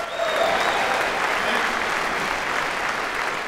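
A large audience at the morning opening of a tech conference applauds the band, a loud, dense wash of clapping that holds steady across the stretch.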